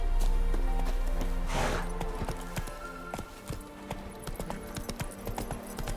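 The horse Roach trots in the video game Witcher 3, giving clear rhythmic clip-clop hoofbeats that repeat steadily, preceded by a brief whoosh and low rumble.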